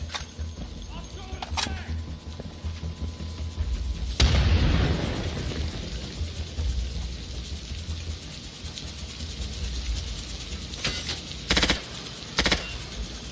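A frag grenade goes off in the Insurgency shooter on the Ministry map, one sharp blast with a low rumbling tail, amid ongoing game noise and players talking.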